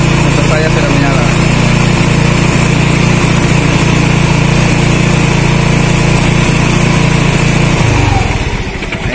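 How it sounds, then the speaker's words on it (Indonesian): A motorcycle engine running on adulterated, mixed petrol after starting, a loud close steady idle with a constant buzzing drone that drops away near the end, with a voice talking over it. "Nah guys, motor saya sudah menyala."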